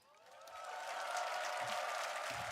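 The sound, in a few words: audience applause at Dota 2 TI12 grand finals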